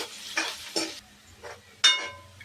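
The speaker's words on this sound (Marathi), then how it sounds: "चिरलेला कांदा टाकून देते। कांदा चांगला तळून घ्यायचा।" Chopped onion dropped into hot oil with cumin and mustard seeds in a pan for samosa filling, sizzling in several separate bursts with spoon scrapes between, loud and close, no talking.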